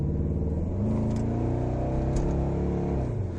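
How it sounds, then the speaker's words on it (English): A 1995 Chevy Impala SS engine pulls under acceleration with a steady, close, throaty growl that holds for a few seconds, with no talk over it. "That lovely growl from the engine, I love it."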